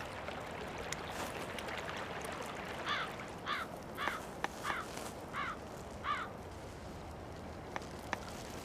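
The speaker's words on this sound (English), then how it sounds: "Magpies rub shoulders with their close kin, carrion crows." Carrion crows in a snowbound winter village give a run of six harsh caws about half a second apart, mid-distance over steady running water, with a couple of sharp clicks.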